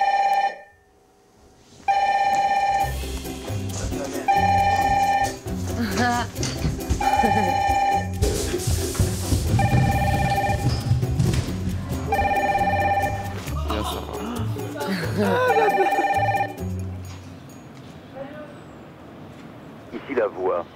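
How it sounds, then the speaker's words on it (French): The red telephone in the Secret Story house rings in repeated loud electronic bursts separated by short gaps, with voices and background activity filling the spaces between rings. "Le téléphone rouge a aussi fait son grand retour dans l'aventure depuis le Prime."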